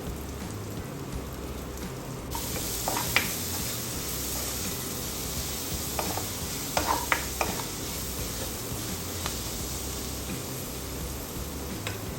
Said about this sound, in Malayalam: ഇപ്പം നമ്മൾ ഉള്ളി ഇട്ട് കൊടുത്തിട്ടുണ്ട്. അതൊന്ന് വഴന്ന് വരട്ടെ. ഉപ്പൂടി ഇട്ടിട്ടാണ് നമ്മൾ വഴറ്റുന്നത്.